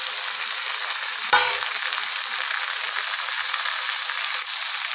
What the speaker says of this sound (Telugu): ఇప్పుడు మన టమాటా కూడా ఇది మంచిగా ఆయిల్లో ఫ్రై అవ్వాలి